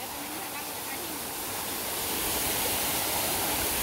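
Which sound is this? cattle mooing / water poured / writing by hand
water poured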